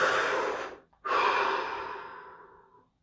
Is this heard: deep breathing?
yes